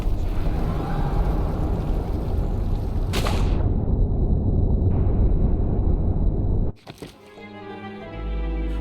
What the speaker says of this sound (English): trying to look at the explosion